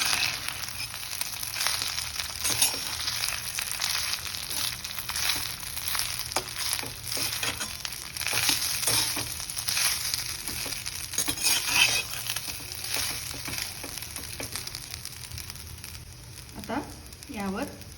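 Rice for jeera rice, with split green chillies, is stirred and mixed in a sizzling pan, giving a continuous hiss broken by repeated scraping and tapping strokes of a utensil against the pan.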